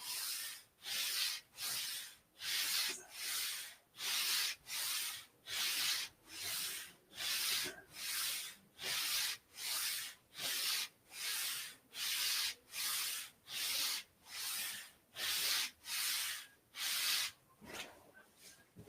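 Rhythmic rubbing slides of a body or feet across the floor during hamstring slide exercises in a workout, about twenty even strokes, close and steady with no talking.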